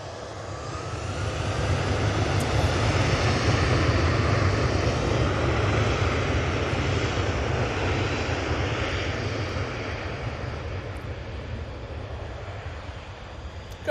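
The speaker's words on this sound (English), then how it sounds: "Singapore Airlines A380 from Houston's on finals." A Singapore Airlines Airbus A380 arriving from Houston on final approach at Manchester Airport gives a steady, broad engine roar that swells a little and then eases off.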